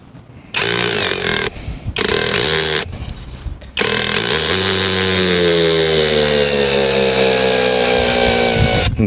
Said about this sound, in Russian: Ну что, я поставил адаптер, головка, погнали пробовать. И у нас такой вот березовый пенек.